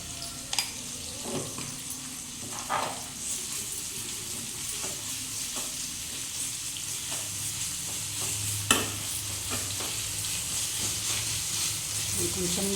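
Two tablespoons of ginger garlic paste fry in a hot pan, giving a steady close sizzle and hiss, broken by scraping knocks as a spoon stirs it at irregular intervals throughout.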